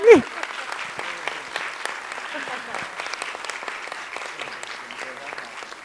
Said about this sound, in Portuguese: queria pedir uma salva de palmas para a Marina Torre